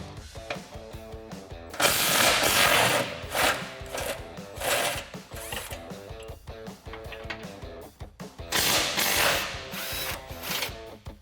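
Ratchet with an 18 millimeter socket loosening skid plate bolts on a Jeep Gladiator JT, rapid clicking pawl bursts in repeated strokes, close and loud, with brief pauses between bursts and no talk.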